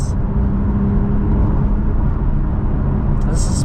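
A manual Porsche Speedster sports car drives with its roof up, its engine a steady, loud, continuous drone heard from inside the cabin.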